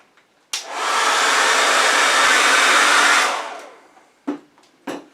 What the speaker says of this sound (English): the easiest would be to get out your blow dryer